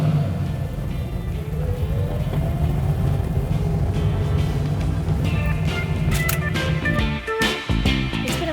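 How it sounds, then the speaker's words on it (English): American muscle car, a Chevrolet Camaro, with its big engine accelerating in a steady deep rumble that rises through the drive, loud and close, with rougher bursts near the end. "a nice big muscle American engine there's nothing quite like it"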